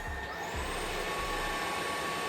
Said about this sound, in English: Let's turn this UWANT D600 vacuum on. Smart Mode.